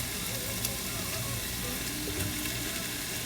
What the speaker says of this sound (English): let's add in our potatoes and stir fry this for about 1 minute or so